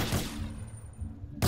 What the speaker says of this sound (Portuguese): Eu tô ouvindo o tiro daqui